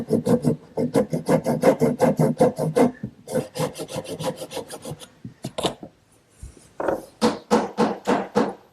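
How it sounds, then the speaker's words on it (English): A hand saw trims a wooden dovetail joint on a Shaker washstand, giving quick, regular rasping strokes up close, with a short pause partway through before sawing resumes. "I'm just going to take my saw and run it between the joint to trim a little bit off"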